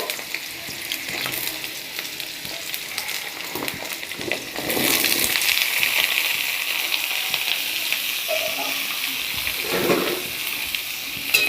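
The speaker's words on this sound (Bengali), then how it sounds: "এবার আলুগুলো ভাজবো" Potatoes fry in a pan of oil tempered with nigella seeds, crackling and sizzling up close. Stirring scrapes come and go, and the hiss swells sharply midway, then stays loud with no talking.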